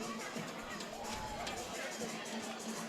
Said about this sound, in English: Everybody's here making noise for their team